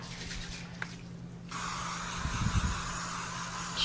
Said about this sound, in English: So let's spray our foreman grill.